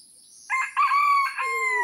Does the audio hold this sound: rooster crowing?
yes